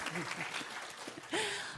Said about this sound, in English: Oh, please applaud.